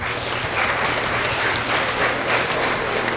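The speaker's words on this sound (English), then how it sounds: "let's give another round of applause for all of our Tigers of the Quarter" Dense, steady applause from a room of students and families at an elementary school award assembly, continuous and evenly loud with a low hum underneath.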